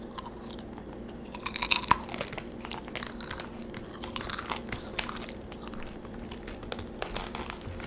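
Cheddar cheese bitten and chewed close to the mic, with crisp crunchy bites and wet mastication clustered in bursts, quiet pauses between, no talking.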